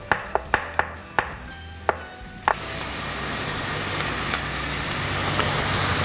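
Onions sautéing in a pan for spaghetti brulée while other ingredients are chopped, with a run of sharp knife chops on a board, then a steady close sizzle and hiss that builds gradually.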